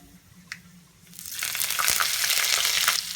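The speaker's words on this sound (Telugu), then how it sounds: "ఇప్పుడు ఇందులోకి కట్ చేసి పెట్టుకున్న అల్లం ముక్కలు వేసేసుకోవాలి" Ginger pieces dropped into hot oil with fried peanuts and cashews burst into a loud, close, crackling sizzle that swells after a second and holds steady to the end.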